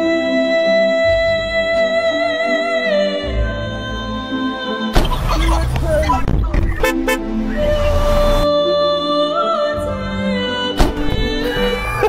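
Car horn honking in traffic, several loud sustained blasts and shorter toots close by, with engine and road noise underneath and some voices in the car.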